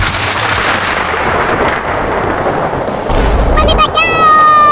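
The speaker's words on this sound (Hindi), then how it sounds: "बादल गरज रहा है और बिजली भी गिर रही है" Loud booming rumble of thunder amid heavy rain, a sustained roll with a sharper crack near the end, followed by people talking over it.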